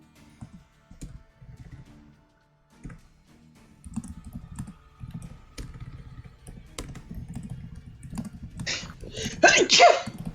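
A sharp sneeze bursts out near the end, following a stretch of keyboard typing and clicking with some background talk.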